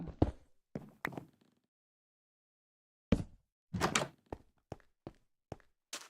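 An oak door is placed in a block-building video game, giving a few short, quiet wooden thunks and clicks spaced out with a long silent gap between them.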